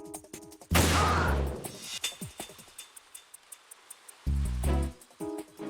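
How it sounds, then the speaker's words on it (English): Sharp gunshots fired at an enemy in Metal Gear Solid 2, two loud bursts separated by a quiet stretch, with small ticking sounds in between and faint speech in the background. "Now I just need to shoot the enemy."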